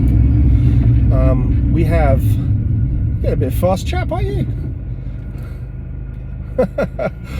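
A car drives along narrow UK country lanes with a steady low engine and road rumble throughout. Someone talks over it in short phrases.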